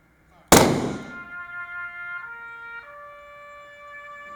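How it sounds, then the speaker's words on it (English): A single sharp volley of rifle fire at a military funeral cracks out loudly, then rings and decays into a lingering tonal echo over several seconds. "A round of gunfire."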